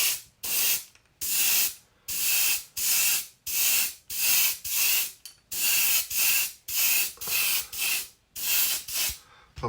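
Spray gun laying a heavy coat of crackle paint on a root beer pumpkin seed, a loud airy hiss in about a dozen short bursts separated by brief pauses.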